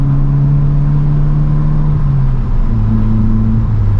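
Engine note of a Vauxhall Corsa in third gear, with a loud, steady air-filter intake roar as it accelerates. The pitch climbs, dips briefly at a shift, then rises again, and no one speaks.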